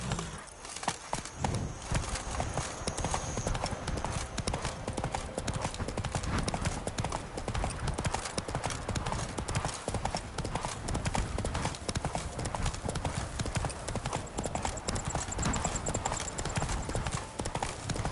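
Horse hooves clip-clop at a fast, steady gallop through the whole stretch, loud and close, in the fantasy video game The Witcher 3, with occasional snorts and faint game ambience beneath.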